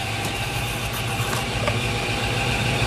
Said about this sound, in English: I'm going to speed up the RPM just a little bit so I can get a little better finish.